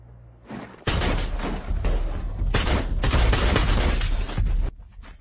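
Gunfire in a movie shootout scene at a cash truck robbery, a sustained loud barrage of shots and impacts erupting after a quiet start and cutting off near the end.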